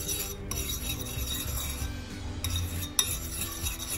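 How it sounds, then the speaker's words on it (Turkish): Molasses and butter being stirred in a pot over low heat, a steady scraping and rubbing of a utensil against the metal with faint clinks, running continuously up close with no talking. "Şöyle güzelce karıştırıyorum. Pekmezle tereyağının bütünleşmesini sağlıyorum."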